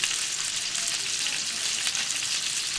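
Pomfret fish fries in a hot pan with a dense, steady hiss of sizzling oil. It stays close and constant throughout, with no voices.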